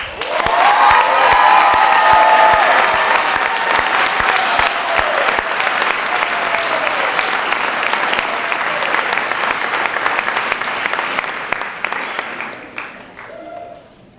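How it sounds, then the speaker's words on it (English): A banquet hall audience at a high school senior banquet breaks into loud, sustained applause, dense clapping with a few cheers that gradually thins out toward the end. "How about a huge thank you, round of applause for Nick Parkinson."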